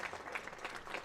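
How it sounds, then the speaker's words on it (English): Cricket crowd at a County Championship match between Leicestershire and Gloucestershire applauding two batsmen as they leave the field, a steady, close ripple of clapping that fills the whole moment with no voices over it. "Ackerman and Hill receive the applause"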